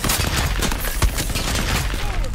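Gunfire in the shooter game Shatterline, a dense burst of overlapping shots and impacts crackling back and forth during a firefight, fairly loud and continuous.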